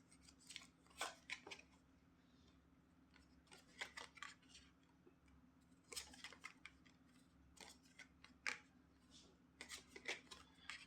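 Tarot cards being shuffled and handled during a reading, giving repeated crisp snapping and riffling bursts, fairly close, over a steady low hum.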